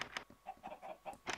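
Chickens clucking in the video game Minecraft, several short soft clucks in an uneven rhythm, faint and close, with no talk over them.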